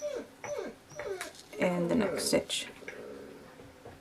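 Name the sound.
dogs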